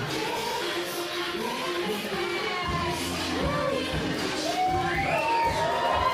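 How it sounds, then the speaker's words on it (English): Wrestling arena crowd at a women's championship match cheering and shouting steadily throughout, with whoops and excited voices rising above a dense, loud roar. "The crowd feeling it here tonight."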